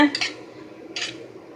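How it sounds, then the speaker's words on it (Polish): A spoon scrapes and clinks against a metal pot of nearly soft vegetables and mushrooms for a sauce, two short bright knocks with quiet stirring between them. "ja idę do garnka zamieszać"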